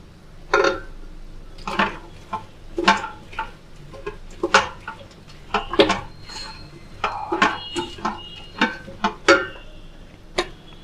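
Potato pieces dropped into a cooking pot during veg biryani preparation, a series of sharp clattering impacts and scrapes at an irregular rhythm, close and fairly loud, with no talk.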